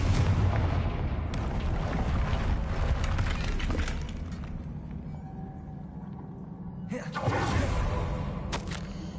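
The Confringo blasting spell explodes in Hogwarts Legacy, a loud sustained rumbling roar with heavy low booms, easing midway, then a fresh burst, all close and dense.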